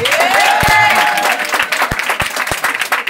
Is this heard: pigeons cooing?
no